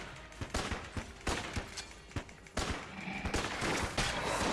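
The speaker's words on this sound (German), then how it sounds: "Wo kam der Schuss her?" Rapid bursts of gunfire crack repeatedly in the video game Enter the Gungeon, in an irregular rhythm, some shots clustered, others spaced out, over a steady background of game noise.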